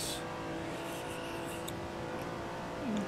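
Ferrari 330 P4 race car driven in a video game at Spa, its engine a steady, continuous drone held at a fairly even pitch, with a slight rise near the end and no voices.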